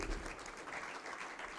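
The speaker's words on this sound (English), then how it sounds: "Big clap." An audience bursts into dense, steady applause, many hands clapping at once in a large room.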